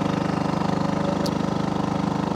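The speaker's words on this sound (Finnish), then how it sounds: "Moottori pörisee taustalla" Boat motor humming steadily at early morning on foggy water, a loud continuous pulsing drone heard close throughout, with no voices.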